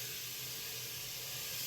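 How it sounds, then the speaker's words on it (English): Water runs in a steady, even hiss as it is poured over sprouting seeds in a jar until they are covered, continuous and close with no voices. "And then I put the water in so that they're all covered,"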